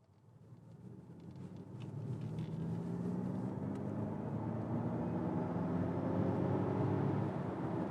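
A Ford Mustang Mach-E electric SUV pulls away from traffic lights, its low whir and road rumble swelling over the first few seconds and then holding steady as speed builds, with a faint rising electric tone.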